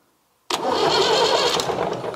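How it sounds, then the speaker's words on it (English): A David Brown 990 tractor's starter motor suddenly cranks after a silent pause, a loud, close, steady grinding whir that carries on through the rest of the moment. "the starter motor should turn"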